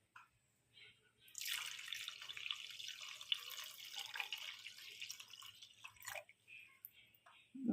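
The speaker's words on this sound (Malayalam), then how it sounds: "ഈ സമയത്ത് തന്നെ ഒരു 1/2 കപ്പ് വെള്ളം ഒഴിച്ചു കൊടുക്കുക." Half a cup of water pouring into a cooking pot makes a steady splashing stream that starts after a quiet second and runs for about five seconds, close by, with no talk over it.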